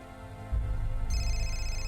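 Electronic telephone ring in the Indigo Prophecy video game, a steady tonal trill that starts abruptly and holds loud and close, then a higher tone layer joins partway through, with no speech over it.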